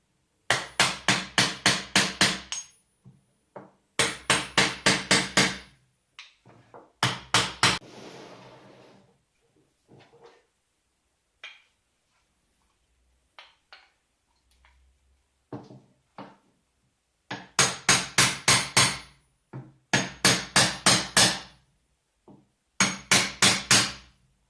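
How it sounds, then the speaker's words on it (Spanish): Two hammers drive a metal hoop onto a wooden barrel during restoration, loud, close metallic strikes coming in quick rhythmic bursts of about six to eight blows, separated by quieter pauses with faint handling noises. "Con la ayuda de dos martillos vamos colocando el aro"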